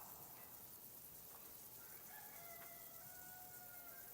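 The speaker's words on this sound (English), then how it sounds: "The chicken in the background." Chicken clucking and crowing in the Kingdom Come Deliverance 2 game world, heard faintly as brief tonal calls against a quiet background hiss, with no talking.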